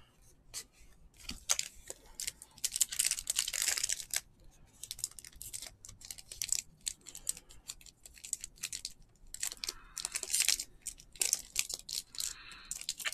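A glued baseball card pack from 2021 Topps Update being torn open, heard as close, crisp bursts of ripping and crinkling foil wrapper in uneven spurts, with no talking.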